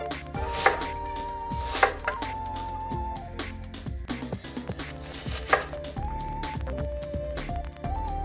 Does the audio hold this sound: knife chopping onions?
yes